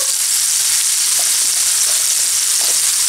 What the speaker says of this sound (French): après la coloration des lardons, je rajoute un peu de crème liquide